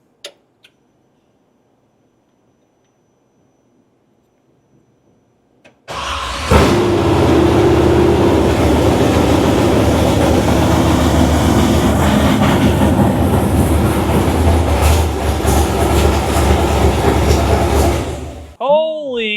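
A GM LS3 V8 with Terminator EFI fires up for the first time in a squarebody truck: after a near-silent pause, a sudden loud, sustained roar runs for about twelve seconds and then cuts off, with voices under it.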